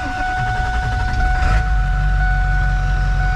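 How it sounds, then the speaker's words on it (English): A diesel truck with drained-down high-pressure oil pump cranks over with the clutch down but won't start: a steady, loud, droning starter-and-engine churn, close up and continuous, with a brief surge partway through. "I'm gonna shut her off and see if she'll start back up"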